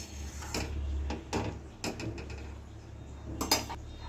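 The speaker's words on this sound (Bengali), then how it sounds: "জল দিয়ে ভালো করে নেড়ে নিলাম।" Red lentil dal with pointed gourd and added water is stirred in a pot on a gas stove, with intermittent metallic scrapes and clinks of a spoon against the pot over a low steady hum.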